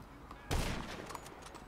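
Gunfire in the video game GTA 5, a sudden loud burst of shots at mid-clip followed by a sustained rattling spray of gunfire over a noisy game background.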